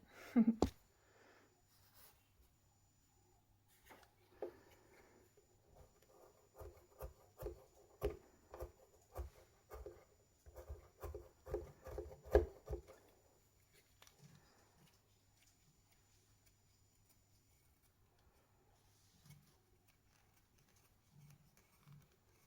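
Close, rhythmic rasping and scraping of a wooden stick being shaped and sanded into a crochet hook, in quick repeated strokes that build up and then fade to occasional light rubbing.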